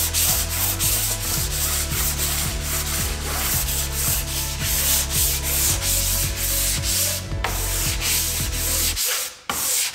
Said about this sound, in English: So I'm gonna do the sanding of that right now